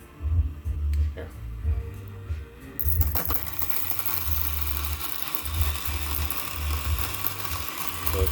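A Weber Workshops Key coffee grinder runs at its lowest RPM, a low rhythmic mechanical whir with irregular clicks and a brief stall, close and continuous.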